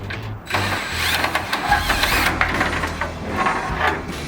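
A power drill buzzes in short bursts while installing a condenser on a 1978 Ford F150, starting and stopping several times close up, with clatter and light knocks between runs.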